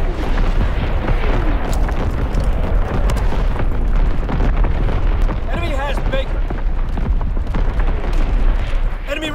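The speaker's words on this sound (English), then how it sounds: "Firing division artillery." Division artillery in a WWII video game booms continuously, heavy low rumbling blasts and bursts layered into a dense roar, with a game voice speaking briefly over it.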